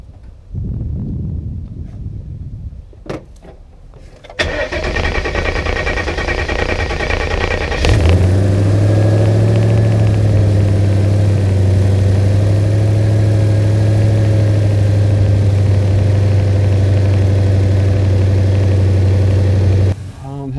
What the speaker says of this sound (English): Start the car for me, please.